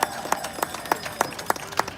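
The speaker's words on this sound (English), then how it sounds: "Give yourselves a round of applause because you hung out and we're here." Scattered, sparse claps from a protest crowd in San Francisco after a huge march, a handful of individual hand claps spaced irregularly rather than a full ovation, fairly distant and light.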